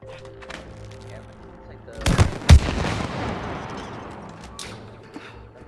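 Gunfire in the co-op video game It Takes Two: a couple of sharp, booming shots in quick succession followed by a rumbling decay, over background game sounds and players talking.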